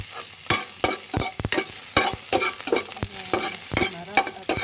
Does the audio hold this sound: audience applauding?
no